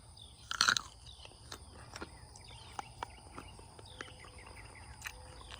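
A firm, crunchy sugar cane jujube fruit is bitten with one sharp, crisp crunch, followed by quiet, scattered chewing clicks.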